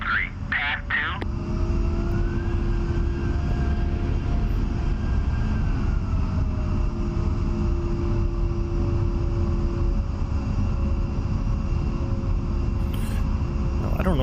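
An A-10A jet taxiing in the DCS flight simulator gives a steady, loud engine whine and rumble with a sustained tonal hum, continuous throughout, with brief clicks near the start and end.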